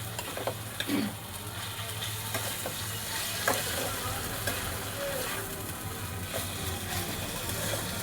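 Chopped tomato fries in a pan for chole gravy, giving a continuous close sizzle and crackle with a few faint stirring knocks, and no one speaking.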